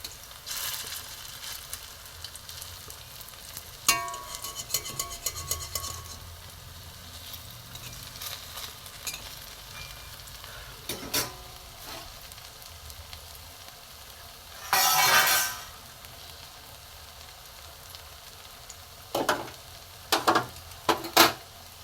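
Pumpkin koftas fry gently in a little oil, a soft steady sizzle broken by sharp clinks and scrapes of a utensil against the pan, with a louder burst of stirring partway through.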